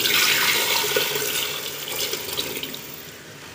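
Water splashes steadily into a cooking pot of fried spices, a continuous near, loud pour that tapers slightly toward the end.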